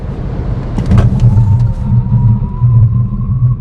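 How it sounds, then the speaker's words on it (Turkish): A Peugeot 2008 SUV with an EAT8 automatic braking hard on the road: loud, close cabin rumble with pulsing low road noise and a thin tone that slowly glides upward as the car slows, with no talk. "Bir fren yapalım bakalım nasıl duracak."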